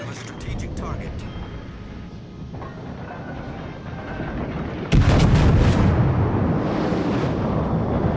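Naval guns firing during a World of Warships battle: a sudden heavy boom near the middle breaks over continuous engine and sea rumble, followed by a loud sustained roar.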